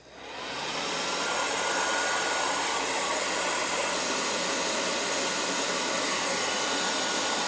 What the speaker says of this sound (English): let's dry these a little bit with the hair dryer